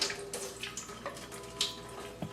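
Water pours and splashes out of a countertop drinking-water filter housing as it is emptied, a close, continuous trickle with a few brief splashy bursts.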